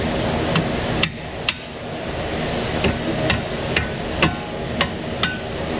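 A dead blow hammer strikes the strut knuckle on a car in an auto repair shop, about eight sharp separate blows spaced irregularly over steady shop background noise.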